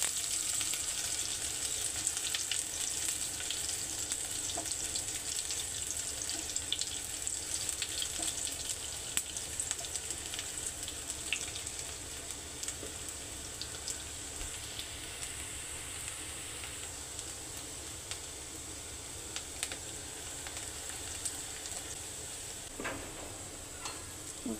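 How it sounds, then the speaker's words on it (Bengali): Vegetable stems and shrimp fry in hot, splattering oil in a pan, giving a steady, fairly quiet sizzle with scattered pops and crackles throughout. "এই জন্য তেল ছিটিয়ে আমার গায়ে পড়ছে।"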